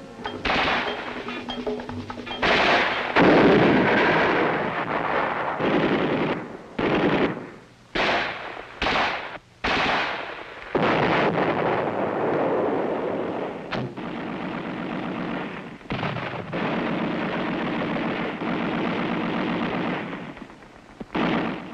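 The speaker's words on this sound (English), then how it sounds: "Rifles, grenades, machine guns, mortars, the works." Heavy, sustained gunfire from an infantry company firing rifles, grenades, machine guns and mortars at once: rapid machine-gun bursts and rifle shots mixed with booming blasts, loud and continuous with brief pauses.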